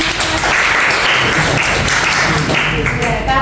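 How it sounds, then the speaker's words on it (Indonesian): Classroom applause for a student during a lesson, a steady patter of many hands clapping that fills the room, with voices mixed in underneath. "Tepuk tangan dong untuk rasa."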